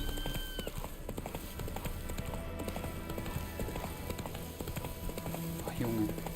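Horse hooves clip-clop at a steady walking rhythm in The Witcher 3: Wild Hunt on PS5, the repeated hoofbeats sitting up close under a talking voice.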